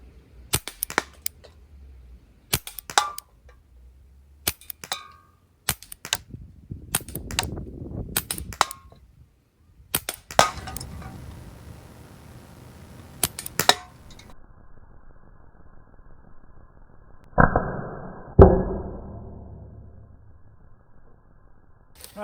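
Beretta 92 Umarex CO2 air pistol with a laser sight fired at a can, giving a series of sharp, separate cracks spaced a few seconds apart, with clatter and a louder metallic hit near the end.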